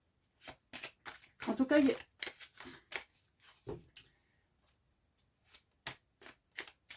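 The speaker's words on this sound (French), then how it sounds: "je vais faire un tirage de 9 cartes" Tarot cards handled and laid out for a nine-card draw, with soft shuffling and crisp flicks of card stock scattered through the clip while someone speaks French over them.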